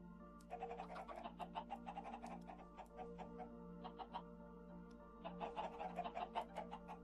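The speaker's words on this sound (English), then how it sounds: "That's the chickens there." Repeated clucking from a flock of chickens in a farming video game, a steady run of short calls that fades briefly mid-clip and then returns louder, over a low constant background hum.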